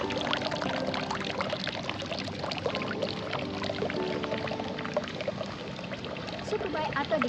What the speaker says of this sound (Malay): Sukubai atau dikenali sebagai stone basin merupakan cucian batu granit kayu Jepun diisi dengan air bersih untuk pengunjung mencuci tangan dan mulut mereka